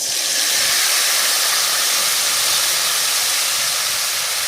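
Turmeric, cardamom, cinnamon and cloves fry with salt in a hot pan, making a loud, steady sizzling hiss that does not let up, with no other sound over it.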